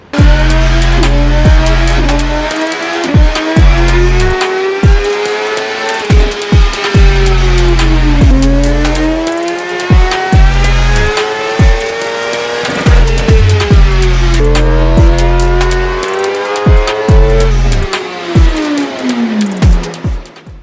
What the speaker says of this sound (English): So let's get the bike warmed up and do some runs on it.